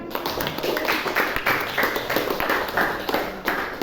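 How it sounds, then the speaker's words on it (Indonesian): Students applaud in a classroom, a steady burst of hand claps lasting a few seconds at moderate loudness, with no clear talk over it. "Oke, tepuk tangan."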